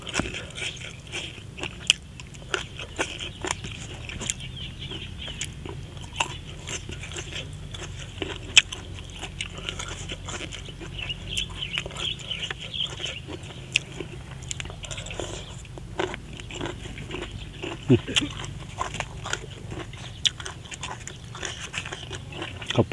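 Crunchy bites and chewing of a pounded green banana and squid salad, close and steady with many crisp crackles over about twenty seconds and no talking.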